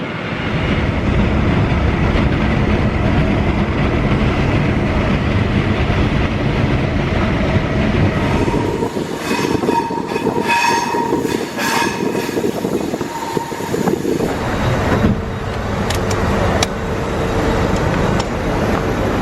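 An HST diesel train running along the Dawlish sea wall, a loud, close, continuous rumble of engine and wheels with rhythmic clatter and a metallic ringing squeal in the middle stretch; no clear horn blast stands out.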